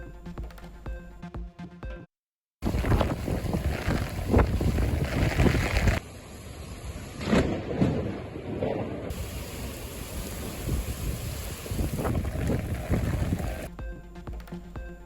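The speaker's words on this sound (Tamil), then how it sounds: "நீண்ட நாட்களுக்கு பின் பலத்த காற்றுடன் வெளுத்து வாங்கிய கனமழை" Strong wind roars and heavy rain pours in Vadipatti, Madurai district, a dense, loud, continuous rush broken by brief cuts, with gusts buffeting the microphone.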